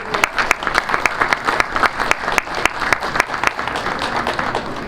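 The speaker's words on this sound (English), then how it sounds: "Let's give them a round of applause, ladies and gentlemen." Audience at a college football veterans salute event gives a round of applause, dense steady clapping with sharp individual claps standing out, loud and continuous throughout with no talk.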